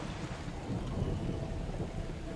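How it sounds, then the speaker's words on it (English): A thunderstorm rages in the video game Assassin's Creed Odyssey, with a steady, loud roar of heavy rain and low rumbling thunder filling the whole stretch. "Looks like a thunderstorm's happening too."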